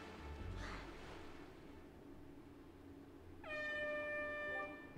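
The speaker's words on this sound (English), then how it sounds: "Where did you get an air horn?" After a quiet stretch, a loud, sustained air horn blast in The Legend of Zelda: The Wind Waker sounds for about a second, bright and brassy, then stops abruptly.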